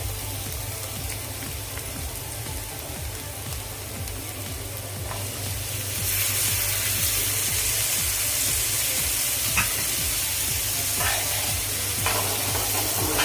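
Cauliflower stir-fried in spiced oil in a pan, a dense, loud sizzle with steady crackling and a stirring scrape; the frying grows brighter and louder halfway through.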